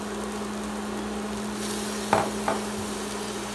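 Chopped tomato with rice and dried beef sautés in a pan, a steady soft sizzle under a low hum, punctured by two sharp utensil clacks against the pan near the end.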